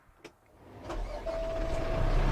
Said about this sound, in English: At this moment we're going to start the vehicle.